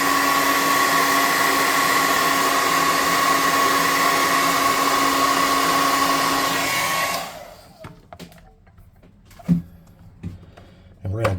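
A hair dryer blows steadily and loudly on a freshly painted wooden miniature for about seven seconds, then cuts off, leaving quiet handling clatter and light knocks.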